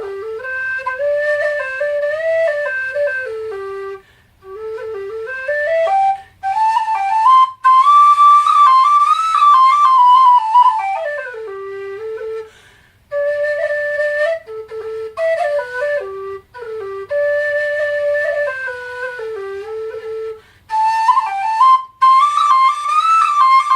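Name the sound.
Carboni G tin whistle being played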